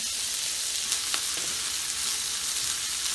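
Cumin seeds and onion hit hot oil for a tomato chutney, setting off a loud, steady sizzle that holds throughout with a few sharper crackles and no voices.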